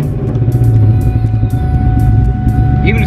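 A supercharged Ford Mustang GT engine settles into a loud, steady, deep rumble after starting up, close by and running without pause.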